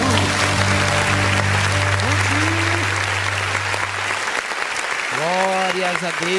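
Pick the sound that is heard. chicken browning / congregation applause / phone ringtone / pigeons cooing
congregation applause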